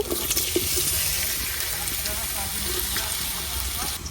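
Chopped onions sizzle in hot oil in a kadai, a steady broad hiss and crackle with faint stirring, close and continuous throughout.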